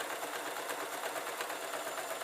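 A sewing machine stitches steadily over a thick seam on a quilted fabric box, its fast needle chatter carrying a slight rattle, close and continuous with no voices.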